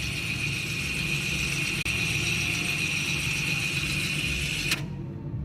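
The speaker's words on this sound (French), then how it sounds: "là on peut entendre le moteur" The electric motor of a rear brake caliper on a 2014 Audi A4 runs with a steady, faint high-pitched whine over a low background hum, cutting off abruptly near the end.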